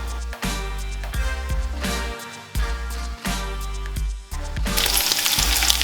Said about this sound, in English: So we're gonna get this bacon crispy.